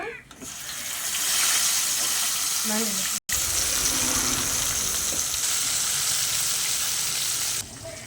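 Fish frying in hot oil with curry leaves, a loud, steady sizzle and crackle that runs close and unbroken through the whole stretch, cut only by one very brief dropout.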